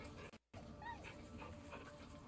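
A dog in the video game Baldur's Gate 3 gives soft, faint whimpering yips against a quiet background, briefly cut by a moment of silence.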